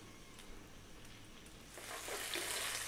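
Beef strips fry in a pan over medium heat, a faint, steady sizzle with a low hum underneath, growing a little louder and brighter toward the end.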